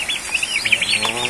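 Ordinary free-range chickens clucking and squawking in a busy, close cluster of calls, with people talking nearby.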